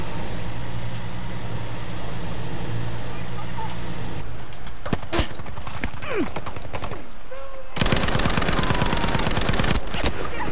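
Rapid automatic gunfire from Battlefield V, a dense rattling stream of shots with sharp isolated cracks, then a loud sustained burst near the end.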